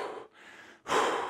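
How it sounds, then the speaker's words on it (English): A deep audible inhale and exhale during a kettlebell home workout, close to the microphone, with two breathy pushes separated by a short pause. "Big breath in."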